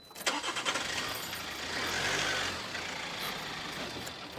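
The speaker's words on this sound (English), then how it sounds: "So I need to just pull the car back a little bit." A family car's engine cranks and starts inside a home garage, then idles and revs gently as the car is pulled back, heard close with no talking.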